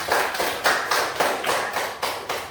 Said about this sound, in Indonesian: Kasih tepuk tangan buat ya